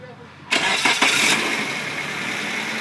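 A 2003 Suzuki Aero sedan with a 2.0 liter engine cranks briefly and catches after a quiet moment, then settles into a steady idle. The start is close and clear.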